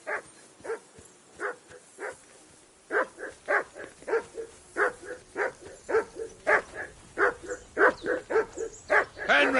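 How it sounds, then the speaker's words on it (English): A dog barks repeatedly in a medieval village in Kingdom Come: Deliverance 2, with sharp, evenly spaced barks that begin sparsely, then come in a fast, steady run, loud and close. "Henry, call that dog to heel."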